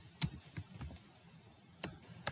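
Keys on a computer keyboard are tapped in a quiet, irregular run of clicks, some louder than others, close by with no talk.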